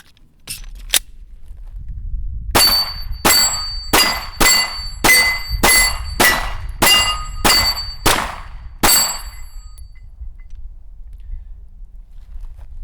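A Smith & Wesson M&P pistol firing at steel targets about 10 yards away: two faint early reports, then about ten sharp shots in a steady rhythm, each followed by a bright metallic ring from the struck steel.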